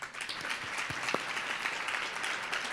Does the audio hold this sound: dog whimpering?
no